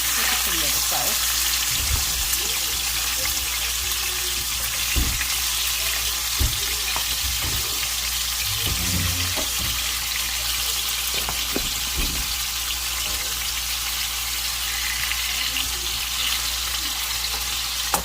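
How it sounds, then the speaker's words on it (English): Turkey necks fry and brown in a hot pan, a steady close sizzle with a few scraping stir sounds, continuous throughout with no voices. "Just add our turkey neck. And you're gonna let it get brown on one side"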